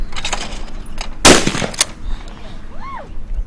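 A shotgun blast at a clay target, one sharp loud report with a brief decay, set against outdoor background noise.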